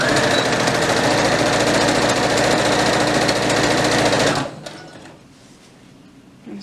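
A sewing machine back stitches a seam on a toddler's elastic-waist dress, running in one loud, unbroken drone for over four seconds before cutting off abruptly into near silence with a few small handling noises.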